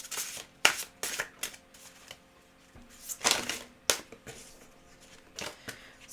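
Tarot cards shuffled by hand in a quiet room, a few sharp riffling bursts and soft card slaps spaced irregularly, close and moderately loud with faint background hum.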